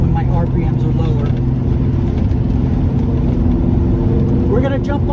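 A 1970 Chevy El Camino with a 350 V8 rated at 420 horsepower, TH400 transmission, Gear Vendors overdrive and 3.73 posi rear end, cruising with a steady low engine drone and road rumble heard from inside while a voice talks over it.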